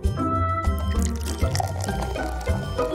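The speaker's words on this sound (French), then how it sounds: "Il est temps de commencer à verser le coca dans le verre." Cola poured from a can into a glass, a steady fizzing pour with liquid splashing and bubbling, close and fairly loud over faint background music.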